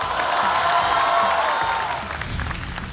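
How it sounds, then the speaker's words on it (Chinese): Applause and cheering from a studio audience welcoming a stand-up comedian onto the stage at a comedy competition show, a steady dense wash of clapping that thins slightly toward the end. "掌声有请宋万博"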